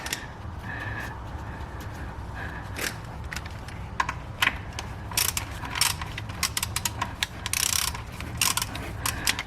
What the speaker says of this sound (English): Let's go ahead and loosen up the drain plug.